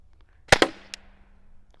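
A PepperBall Lifelite CO2 launcher fires, giving two sharp, loud close pops in quick succession followed by a fainter third snap, then a brief hiss of gas fading out.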